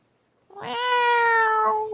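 An unhappy-sounding indoor cat lets out one long, drawn-out meow, close and clear, rising after a short quiet moment with nothing else heard.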